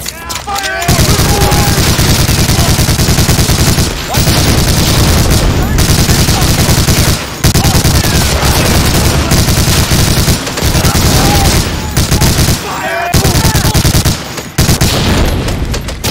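Heavy machine gun fire in the World War II shooter Medal of Honor: Allied Assault, loud sustained bursts of gunfire broken by brief pauses, with shouted voices mixed into the battle noise.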